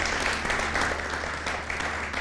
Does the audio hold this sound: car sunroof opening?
no